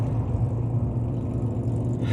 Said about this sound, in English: Y'all, excuse the motorcycle.